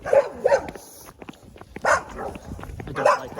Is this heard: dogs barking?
yes